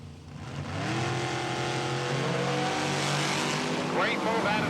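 Drag race cars, one a Dodge, launch off the starting line at a Can-Am nationals meet, engines screaming in a loud sustained roar with rising pitch sweeps as they pull away, heard near and under faint background talk.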